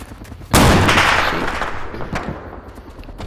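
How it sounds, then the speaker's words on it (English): Video game gunfire: a single loud, close burst of shots hits sharply after a short quiet lead-in, then rings out in a long, rumbling decay with scattered fainter pops. "Lots of shots."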